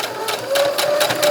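A sewing machine backstitches over an apron strap with a rapid, close, rhythmic clatter of stitching bursts and a faint motor hum underneath.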